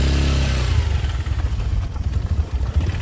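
A motorcycle rides along a snowy road, its mid-pitched engine close and loud with uneven revving and a rattling, pulsing exhaust note over a few seconds.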